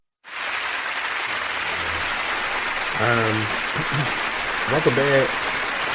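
Studio audience applause on a radio talk show, a steady broadband wash of clapping running nearly the whole stretch, with a voice speaking over it partway through.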